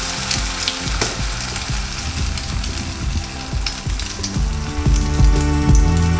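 Egg-dipped French toast slices fry in a pan with a loud, close sizzle and crackle that builds toward the end, with scattered spattering pops and some background tones, no speech.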